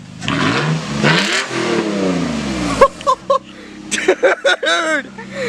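A straight-piped Toyota Tacoma engine revs in several short, sharp bursts, loud and close, after excited talk from people standing nearby.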